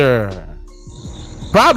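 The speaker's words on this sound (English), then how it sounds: "There's some crickets in the background." Crickets chirp steadily in the background in thin, high repeating trills, with a voice speaking at the start and again at the end.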